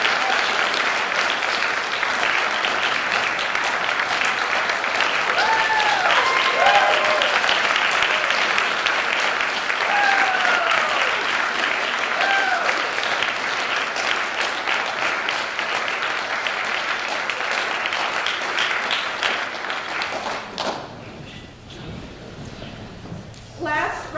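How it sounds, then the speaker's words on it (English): A premiere audience applauds a film's cast in a sustained burst of dense clapping lasting about twenty seconds, with a few whoops and cheers rising over it before the clapping stops abruptly. "So if we could give them a round of applause."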